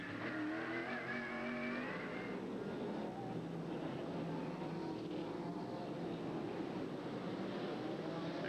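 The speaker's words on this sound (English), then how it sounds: "Right behind him is the 9th place machine of Steve Saleen, number 19." Race cars at a 1990 SCCA Trans-Am race in Des Moines, Iowa, produce a continuous, fairly distant engine roar with shifting pitch as the cars pass. It runs steadily throughout with no talk.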